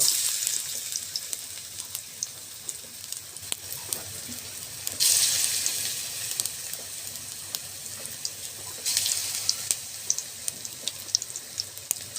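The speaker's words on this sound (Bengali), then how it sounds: "এবার বড়া দিয়ে দিচ্ছি বড়া সুন্দর করে আমরা ভেজে নেব" Bora fritters fry in hot oil, a soft continuous sizzle with occasional crackles and sharper bursts of spattering, close and fairly quiet, with no talking.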